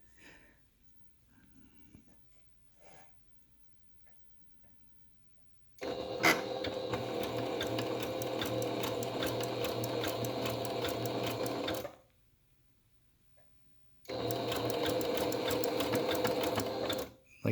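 Sewing machine stitching a zigzag pattern on a medical mask, two sustained loud runs of rapid mechanical whirring separated by quiet pauses with faint handling noises.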